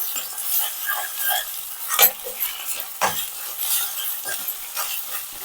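A spoon stirs ginger garlic paste through chicken curry frying in a pot, giving soft scrapes and clinks over a faint steady sizzle, close and fairly quiet, with a few sharper knocks.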